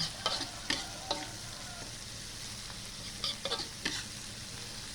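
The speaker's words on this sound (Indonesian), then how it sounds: "Digosreng sampai layu juga." Vegetables stir-frying in a pan until they wilt, in a Madurese home-style dish. A steady low sizzle runs throughout, broken by scattered scraping clinks of a spatula against the pan, close up and with no talking.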